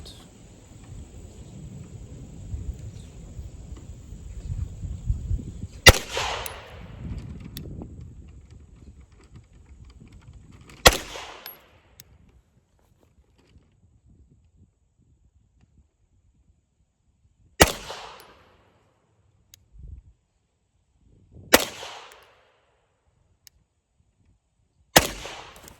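A Glock 34 pistol fires 147 grain hand-loaded rounds outdoors, five sharp, loud shots spaced several seconds apart, each with a short echoing tail, after a stretch of low rumbling background noise.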